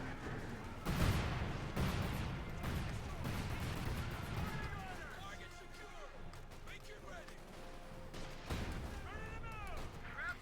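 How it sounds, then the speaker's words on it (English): Cluster bombs in Company of Heroes 2 burst in a scattered string of booms and crashes, staggered rather than simultaneous, beneath steady battle noise while a commentator keeps talking over them. "There we go, we got cluster bombs here."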